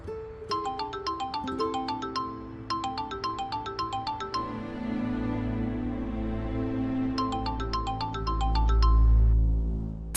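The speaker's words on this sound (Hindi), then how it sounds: "फोन उठाओ मेरा लेवेंट, फोन उठाओ" A bright melodic phone ringtone plays in repeated bursts, with a low hum and murmuring underneath that swells toward the end.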